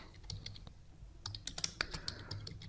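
Keys tapped on a computer keyboard in quiet irregular bursts, with a few sharper clicks toward the end and a low hum underneath.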